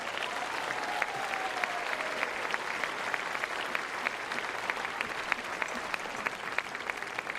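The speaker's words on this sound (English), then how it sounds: "Ladies and gentlemen, please have a round of applause for Casey Dellacqua." A tennis crowd at a women's tour event in Hobart gives steady, sustained applause for the player, with a dense wash of clapping and a few sharper claps standing out.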